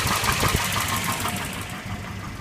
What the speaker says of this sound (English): So keep turning the K nut out to raise the RPMs.